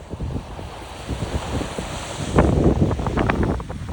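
Winter sea waves on a North Cyprus beach wash and roll in steadily under heavy wind buffeting, with a louder surge of surf breaking partway through.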